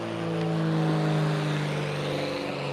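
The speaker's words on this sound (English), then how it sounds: "plane's hauling ass" An airplane flies past overhead at speed, a steady droning engine tone holding evenly and loud throughout, with no talking.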